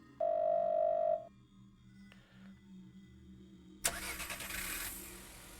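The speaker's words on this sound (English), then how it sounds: "The sound of a car starting is coming from outside the door." Car engine starting just outside a door in a PC video game: an abrupt, loud burst of ignition and engine roar that keeps running steadily, following a quieter stretch with a brief steady tone and faint clicks.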